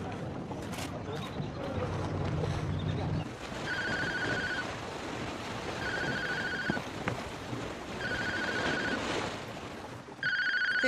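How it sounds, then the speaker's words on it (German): A telephone rings indoors in a German romance film scene, with repeated bursts of an electronic ring tone separated by pauses, under a rumbling, rain-like background and occasional voices. "Telefon."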